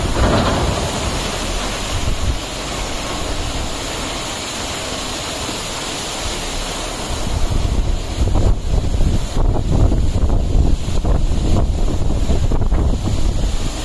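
A hidden double waterfall near Navi Mumbai pours in a steady, loud broadband rush, with gusts of wind buffeting the microphone and growing rougher in the second half; no voices are heard.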